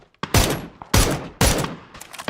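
In PUBG: Battlegrounds, three loud, sharp bursts of gunfire go off close by with short gaps between them. Fainter shots follow at the end.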